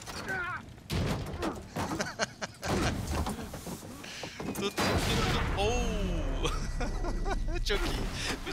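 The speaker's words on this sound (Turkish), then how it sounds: "Bize yardım etti şu an o patlama." Loud gunfire and blasts from the Assassin's Creed Unity video game crash through the clip amid dense action noise, with a heavy continuous roar after midway and someone talking over much of it.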